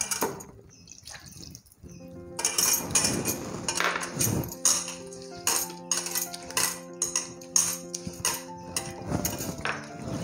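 Eggless cake batter with milk and sugar syrup is whisked in a bowl: quick, rhythmic clinks and taps of the whisk against the bowl, with soft background music underneath.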